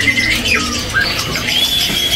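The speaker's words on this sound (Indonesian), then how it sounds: "Jadi ini ada murai trotol jantan dari seri F4 asli ya" Caged male oriental magpie-robin (murai trotol, F4 line) giving a few sharp, high whistled notes and squawks up close, loud and clear over steady background noise.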